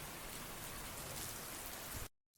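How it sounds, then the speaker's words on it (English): Steady rain ambience from a Linux ambient sound app, a dense, even hiss of falling drops that runs unbroken and then cuts off abruptly near the end. "So here's rain."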